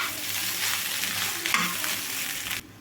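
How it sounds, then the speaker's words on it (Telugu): Leftover rice with egg is tossed quickly in a pan over high flame for egg fried rice, a busy continuous sizzle with rapid scraping stirs that stops abruptly just before the end. "హై ఫ్లేమ్లో ఉంచుకొని ఫాస్ట్గా కలుపుకోవాలి."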